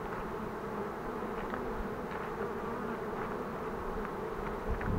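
Bees buzzing steadily at a village apiary, a dense, continuous drone of many insects close by, with no talking over it.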